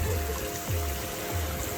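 A constant rushing roar of a waterfall near a beach in New Zealand fills the air, broad and steady, with a few low gusty rumbles.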